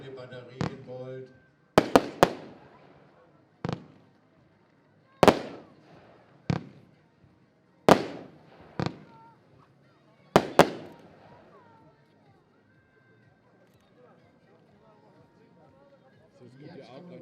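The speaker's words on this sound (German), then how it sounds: "Wunderschöne gefächerte Batterie in Gold." A fanned gold firework battery fires a series of sharp booms in singles and quick clusters, each trailing off in crackle, then falls quiet for several seconds before a faint rustle returns.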